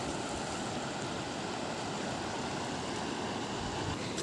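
A swollen river in Ubito runs high and deep after heavy rain, giving a steady, dense rush of flowing water that stays constant throughout without pause.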